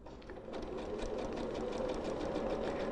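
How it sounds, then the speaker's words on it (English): A sewing machine sews boning close to the edge of fabric, a continuous quiet whirring run with rapid needle clatter, steady throughout and alone. "this is sewing close to the edge"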